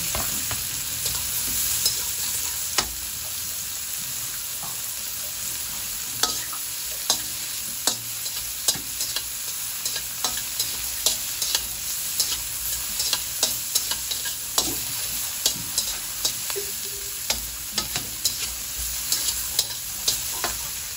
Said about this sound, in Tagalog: Inilabos ko na yung ating hipon ay sibuyas natin